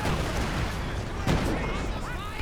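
A Su-76 in Company of Heroes 2 fires a long-range artillery barrage: steady rumbling shell fire with one sharp, louder impact partway through, heard under a commentator's voice.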